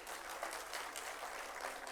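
An audience at a community awards ceremony applauds the organizers, a continuous patter of many hands clapping at a fairly faint distance, holding steady for the whole span with no speech over it.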